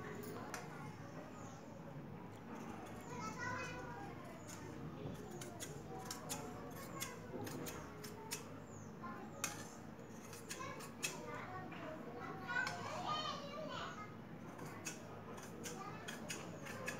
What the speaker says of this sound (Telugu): ఈ విధంగా మార్కింగ్ చేసిన తర్వాత మనం ఇప్పుడు కట్ చేసుకుందాం